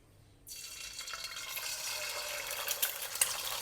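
Eggs hit hot oil in a wok over medium heat for sunny side up frying, bursting into a sudden loud, steady sizzle that keeps crackling close by.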